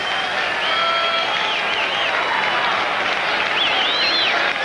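Baseball crowd at Fenway Park in Boston applauding and cheering for Pedro Martinez with two strikes, a steady dense roar of clapping and shouts filling the ballpark, with a few whistles rising over it.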